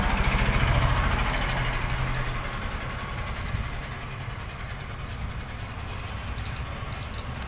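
A simple buzzer continuity tester beeps in two short clusters of high, thin tones over a steady low background hum, used while checking electronic components.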